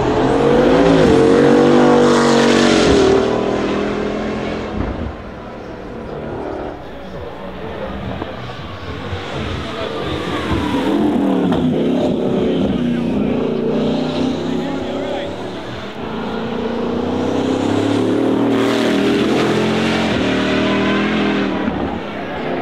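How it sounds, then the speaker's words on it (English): A Bugatti Bolide's quad-turbo 8-litre W16 engine roars and surges in waves, revving up and easing off several times, loud and close, with some talking mixed in. "the last car from there with the 8-litre W16 turbo charged engine"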